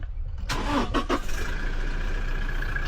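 A student's car engine cranks with a few sharp bursts, then catches and settles into a steady low idle, moderately close and fairly quiet.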